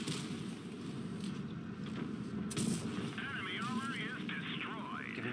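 Tank gun fire in the World of Tanks video game, a dense rumbling barrage of booms mixed with warbling game effects, with a sharper blast near the middle.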